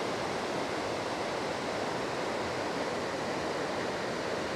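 The Merced River rushes through its canyon near Yosemite National Park in a constant, dense roar with no pauses, loud and steady throughout, after a flood.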